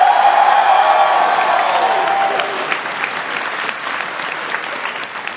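Loud, dense applause from a live audience at a talk on gun rights, steady and sustained for the whole stretch, thinning slightly toward the end with scattered claps and faint crowd noise.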